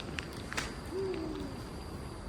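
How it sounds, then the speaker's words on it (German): A single owl hoots once at night near a campsite: a soft, slightly wavering call, fairly distant and faint over a quiet hiss, with a few small knocks just before it. "Mit einer Eule, habt ihr sie gehört?"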